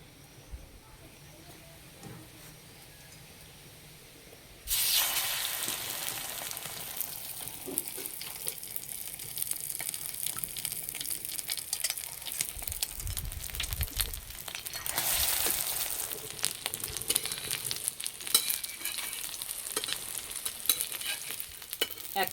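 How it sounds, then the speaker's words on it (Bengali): Egg-dipped vegetable paratha frying in oil on a flat iron tawa, a steady bright sizzle that starts abruptly a few seconds in after quieter kitchen background and continues loudly, with faint scraping and handling noises. "এই পরোটাগুলো চাটুতে ভেজে নেব"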